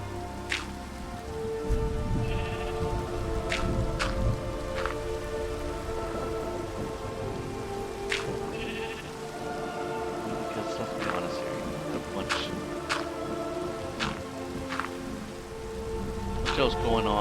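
Steady rain falls in the Minecraft video game, a constant hiss with scattered sharp clicks throughout.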